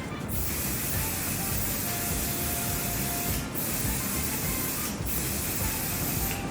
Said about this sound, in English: this is her Airbrush Flawless Setting Spray. We are in Texas. We spray a lot.